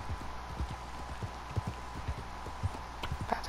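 Steady clip-clop of horse hooves in Red Dead Redemption 2 Online, several horses trotting at a quick even rhythm, fairly close, with a faint background hum and no talking.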